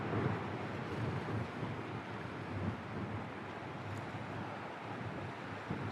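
Strong wind blows across a breakwater at Hope Cove on the coast. It makes a steady, loud roar of buffeting noise that fills the whole clip, with no talking.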